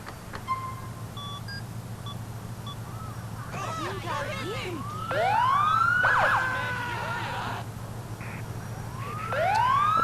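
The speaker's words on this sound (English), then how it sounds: "unfortunately, you get that little siren glitch again." A police car siren in a video game glitches, chirping and sweeping in short, broken wails that cut in and out over a steady engine hum, sounding repetitive.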